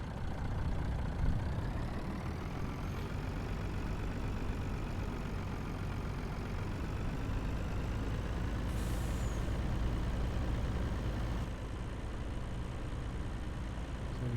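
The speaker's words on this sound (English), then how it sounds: "We're going to run for our truck." A loaded truck hauling soybeans in Farming Simulator 19 drones steadily for the whole stretch, its engine low and constant, with a brief hiss of air brakes about two-thirds of the way through and no voices.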